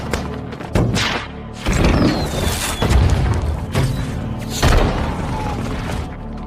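Gunfire and booms fill an action film attack scene, with loud, heavy shots and crashing impacts arriving in bursts over a dense, reverberant background.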